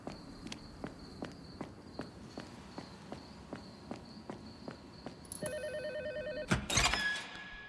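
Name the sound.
telephone ringing in video game Tormented Souls II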